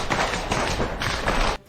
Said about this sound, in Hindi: तभी अचानक सामने की तरफ से ऐसी गोलीबारी शुरू हुई मानो दिवाली के पटाखे फूट रहे हों